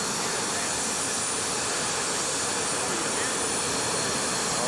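Airplane engines running on an airport apron during boarding, a loud steady broadband roar filling the whole clip with no break, close and constant.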